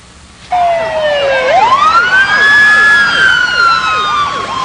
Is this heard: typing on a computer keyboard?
no